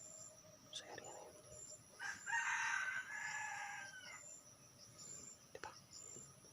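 A wild junglefowl in the forest crows once, a clear extended call lasting nearly two seconds, set against a steady whine of insects, with a few soft taps and rustles before and after and no speech.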